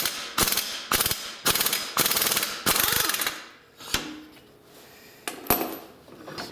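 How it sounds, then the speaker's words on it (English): A 22mm wrench ratcheting a clutch puller on a Polaris Sportsman 800 ATV during a drive belt change, several loud bursts of rapid metallic clicking close by, then a few scattered clanks and taps. "I'm going to take the 22mm and tighten it in a little bit until it releases the"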